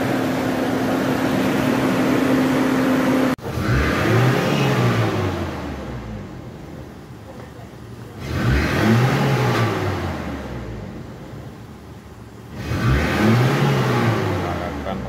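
Toyota Kijang engine fitted with a catalytic converter in the exhaust, revved repeatedly: three loud surges that climb and fall back, each separated by a quieter idle, after an opening stretch of steady running.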